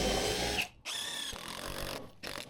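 Power drill driving screws into 4x2 timber to assemble a roof frame, heard up close as loud whining bursts of motor spin with short pauses between them.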